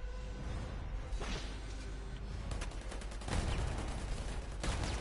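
Rapid gunfire bursts crackle in the video game Apex Legends, dense volleys of shots with sharp cracks at intervals over a steady background rumble.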